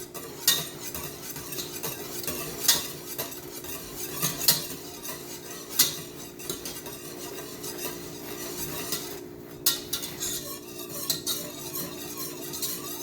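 Milk in a pot is stirred while it thickens into sweetened condensed milk, with repeated metallic scrapes and taps of a utensil against the pan over a low steady hum and soft bubbling.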